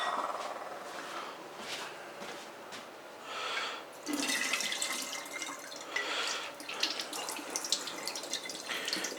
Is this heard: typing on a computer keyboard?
no